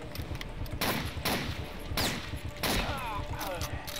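Repeated bursts of gunfire in the World War II shooter game Blade of Agony, sharp volleys coming in loud clusters, with someone talking in Danish over and between the shots.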